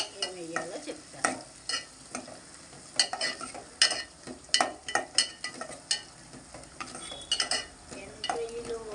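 Ghee sizzles in a pan while an aubergine, mango and dried prawn curry is cooked, steady frying crackle broken by repeated scraping stirs of a utensil against the pan, close and fairly quiet, with no talking.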